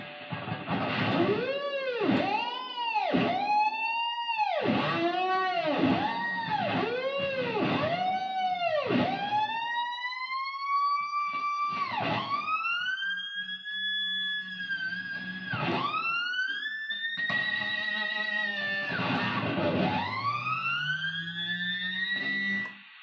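Sliding, swooping guitar harmonic tones rise and fall in a repeating wavy pattern, then stretch into longer bending notes, processed and echoing.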